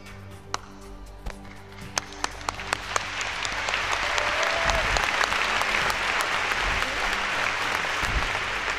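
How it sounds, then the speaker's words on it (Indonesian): A crowd at a church sermon claps, first a few single claps in sequence, then swelling into sustained applause from a large audience. "Kalau saya tepuk tangan sekali, Anda tepuk sekali."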